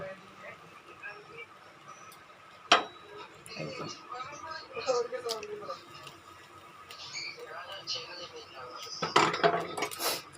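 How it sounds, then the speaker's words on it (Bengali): Fish pieces going into a simmering curry gravy in a pan, with scattered clinks and scrapes of a utensil against metal and a few sharper knocks near the start and end, under a faint bubbling; a voice speaks softly at times. "এইবার এই মাছগুলোকে আমি ঝোলের মধ্যে দিয়ে দেব"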